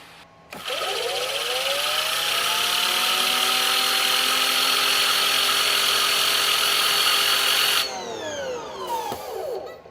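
An EGO 56V battery pressure washer, rated 3200 PSI and 1.2 GPM, sprays with a turbo nozzle on its low setting. A loud, steady, high-pitched motor whine and water hiss runs for about seven seconds, then winds down abruptly.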